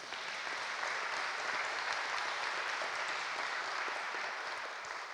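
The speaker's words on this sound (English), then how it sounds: "yes, you can clap for her" Sustained applause from a church congregation for a woman being introduced, a dense steady clapping wash that stays loud and even throughout with no talk over it.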